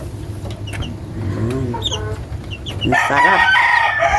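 Young chicks drinking Yakult-dosed water give high, thin peeps and soft clucking nearby, growing busier and louder toward the end, with a brief spoken word in the middle.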